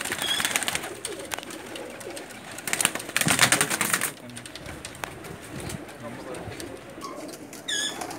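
Pigeons of a fancier's prized breed coo softly near the listener, with scattered rustles and a brief louder burst of movement midway, under faint background voices.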